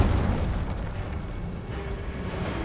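An Incendio fire spell in Hogwarts Legacy bursts with a rumbling, roaring blast, a loud low-heavy whoosh that stays dense and fairly even for nearly three seconds with no speech.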